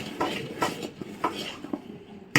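Malpua batter, flavoured with cardamom powder, is stirred in a metal bowl with a spoon, giving soft rhythmic scraping clinks about twice a second and a sharper clank at the end, quiet and close with no voices.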